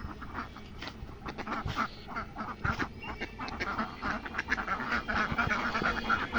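A flock of ducks on a village road in the morning quacks continuously in overlapping calls, a busy, moderately distant chorus with no talking.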